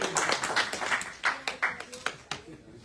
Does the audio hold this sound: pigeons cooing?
no